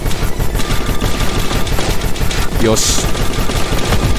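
Automatic gunfire in the video game Ironmelt Marfusha pounds out in a loud, rapid, steady rhythm for the whole stretch, with someone briefly speaking over it.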